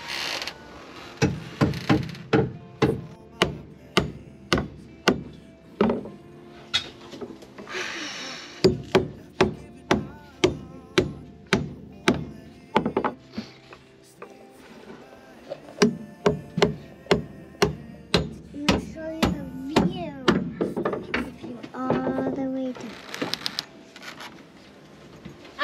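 Repeated hammer strikes on wood while building a tree house, sharp close blows in steady bursts with short pauses, some rapid runs of hits, and occasional talk between them.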